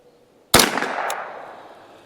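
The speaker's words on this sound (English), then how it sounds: "we'll shoot another mag of this stuff. Just kind of continue to break this rifle in." Single sharp gunshot from a custom Ruger 10/22 rifle with a Kidd barrel, fired outdoors during break-in, loud and close, followed by a decaying echo and a faint metallic tick.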